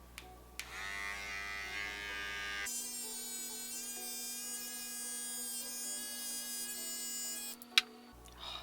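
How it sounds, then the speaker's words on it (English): A small electric face shaver buzzes close up, first a lower hum, then a higher-pitched steady whine for several seconds as it moves over the skin, ending with a couple of small clicks. "At this point, if I feel like I need to shave my face, I will."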